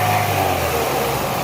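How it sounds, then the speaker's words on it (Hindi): A used car's engine runs steadily in good mechanical condition, a continuous hum with a low idle drone, close and alone without talk. "अब इसके इंजन का साउंड अच्छा है, बहुत अच्छी कंडीशन में।"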